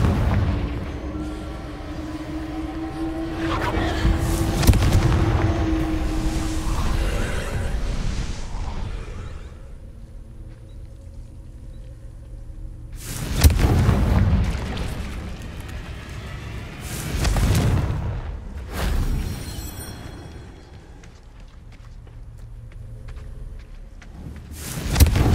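Confringo fire spell blasts go off in Hogwarts Legacy, several heavy booming explosions with long rumbling tails, spaced apart by quieter stretches.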